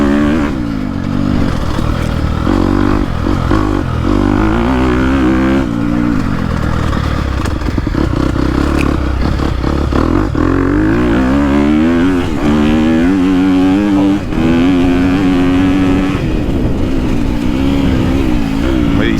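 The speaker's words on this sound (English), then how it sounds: "I could literally just leave it in third and just roll that throttle and it goes" Dirt bike engine, a 2022 Honda CRF250R or 2022.5 KTM 250 Factory Edition ridden on a motocross track, loud and close, with repeated throttle rolls rising and falling in pitch over a constant rough engine drone.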